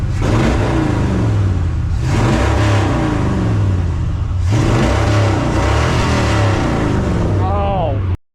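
A 1978 Ford F-350 truck engine revs loudly and steadily up close, its rough, throaty roar rising and falling through the whole stretch before cutting off abruptly at the end.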